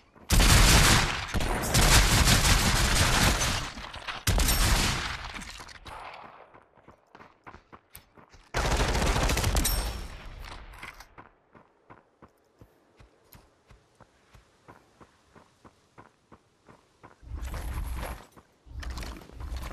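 Gunfire in the virtual reality battle royale game Population: One, loud rapid bursts of automatic shots in several long volleys separated by sparser single pops and quiet gaps, with no talking over it.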